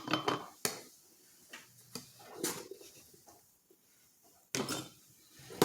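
Baked beans with bacon are spooned into glass canning jars, giving sharp intermittent clinks of a spoon against glass separated by quiet pauses, close and fairly soft.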